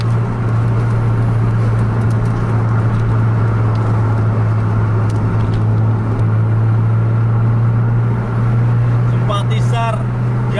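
Scania 1626 bus engine at full throttle in a bus racing video game, a steady loud low drone held throughout with constant rumble and no breaks.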